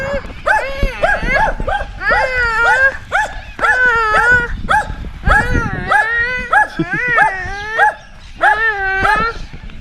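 A dog gives a rapid series of high whines, yips and short whimpering barks in uneven bursts, close and loud, with brief pauses between them.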